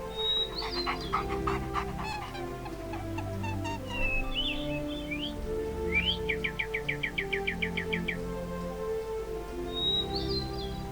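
Birds chirp and trill over a steady bed of video game music, with a rapid run of repeated chirps midway and a single rooster call near the end.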